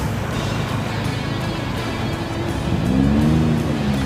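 Road traffic near the Manaog church on a busy Sunday, with a steady low car engine rumble throughout and a vehicle revving slightly louder near the end.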